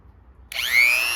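A VEVOR electric chainsaw sharpener switches on abruptly partway through, whining up to a steady high grinding tone as it spins, close and fairly loud, with near silence before it starts.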